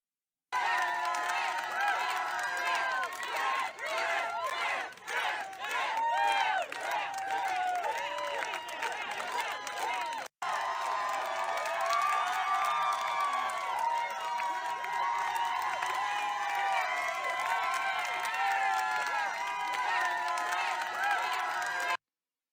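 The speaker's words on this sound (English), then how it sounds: "The first person to walk out of the Apple Store with their Apple Vision Pro gets a big round of applause" A dense crowd inside an Apple Store claps and cheers for the first buyer leaving with an Apple Vision Pro, loud sustained applause and whooping that continues almost without a break.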